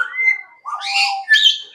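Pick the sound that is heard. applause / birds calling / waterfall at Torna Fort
birds calling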